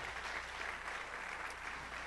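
A church congregation claps in steady, dense applause, a continuous patter heard at a distance and fairly faint.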